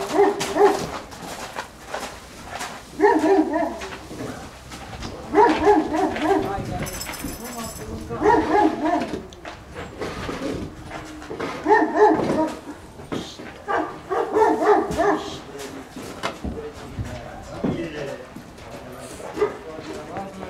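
A small dog barks and whimpers in short repeated bursts at a horse farm in Câmpulung Moldovenesc, Bucovina, close by, with people talking between and over the yips.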